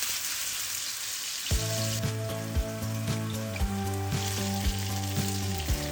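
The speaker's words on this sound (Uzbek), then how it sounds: "Tiftellarni jarkobga solishdan oldin ozgina yog'da qizartirib qovurib olamiz" Meatballs dropped into a little hot oil in a pan, starting with a sudden loud sizzle that continues crackling and popping steadily up close, with no talking.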